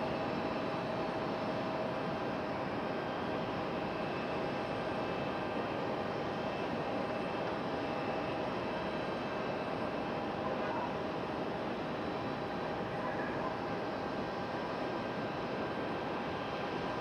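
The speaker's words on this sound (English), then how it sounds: "777 slowly making its way up to toward the end of the runway there." A Boeing 777 airliner taxis slowly toward the end of the runway at Raleigh-Durham International Airport, its engines a steady, distant broadband roar with a faint whine, unchanging throughout.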